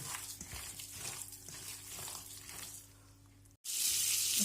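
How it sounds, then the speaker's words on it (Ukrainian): Rice fritters sizzle softly in a pan as a steady, faint crackling hiss; near the end the sound abruptly shifts to a brighter, louder rush. "що я потихеньку смажу"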